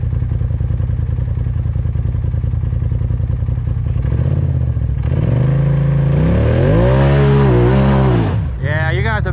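Off-road vehicle engine on a rocky trail at Windrock idling roughly, then revving hard in loud rising and falling surges as it tries to climb, close and dominant with a brief voice nearby.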